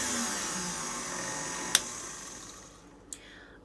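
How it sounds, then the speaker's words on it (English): An electric mixer whirs steadily for banana muffin batter as oil is poured in, a continuous fairly quiet drone with two sharp clicks near the end. "with the mixer running, slowly pour in the oil"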